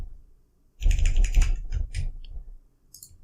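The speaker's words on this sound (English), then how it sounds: "Type in ifconfig" The ifconfig command is typed on a computer keyboard in a Kali Linux terminal, a short, close burst of rapid key clicks that starts abruptly and then trails off into quiet.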